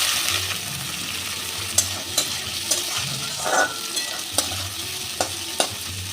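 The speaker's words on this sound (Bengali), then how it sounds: "পেঁয়াজটা আমি ভেজে নেব" Sliced onions frying in hot oil in a pan with tempered dried chilli, bay leaf, ginger, cumin and asafoetida, a steady close sizzle broken by several sharp scrapes and taps of a spoon stirring against the pan.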